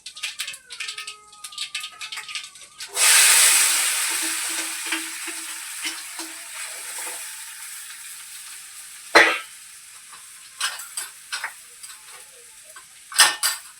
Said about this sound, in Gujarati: થોડુંક થોડું જીરું ને રાયને નાખીને વઘાર કરી નાખશું